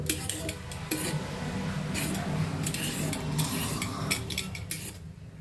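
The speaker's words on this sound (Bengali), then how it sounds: "তারপরে বটি দিয়ে কেটে নিব" A bonti blade peels and cuts papaya in a home kitchen: close, light scraping and slicing scrapes with occasional sharp ticks and knocks, steady and fairly quiet, with no voice.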